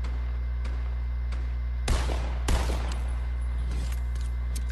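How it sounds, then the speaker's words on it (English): Two sharp gunshot bursts ring out over a steady electronic hum, followed by a few fainter distant shots; no talking. Gunfire in Fortnite. "Why do I hear gunfire?"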